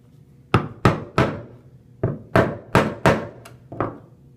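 A chisel chops down at the shoulder of a wooden tenon for a nightstand front rail, about nine sharp, close, woody knocks in two uneven bursts, each ringing off briefly.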